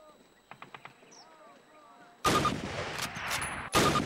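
Two bolt-action Springfield rifle shots in Call of Duty's training range, each a loud sharp blast with a ringing tail, coming after a stretch of quiet with faint birdsong and a few soft clicks.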